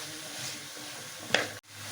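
Chopped carrots and other vegetables frying in a pan for veg noodles, a soft steady sizzle close by, a brief scrape of stirring near the end followed by a sudden dropout.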